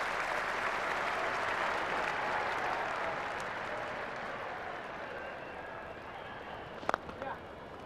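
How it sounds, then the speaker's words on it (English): Sustained applause from a cricket crowd at Edgbaston greeting Trescothick's fifty in a 2002 England v Sri Lanka test, a broad steady roar of clapping that slowly thins, with a few sharp isolated claps near the end. "Crowd here at Edgbaston really appreciating this innings"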